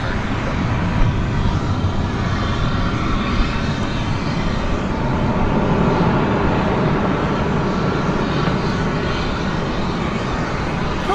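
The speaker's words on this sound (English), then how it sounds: "the flight taking off was going to Fresno" A jet airliner takes off from DFW Airport at night on a flight bound for Fresno, its engines a loud, broad, continuous roar that holds steady throughout, with no voices.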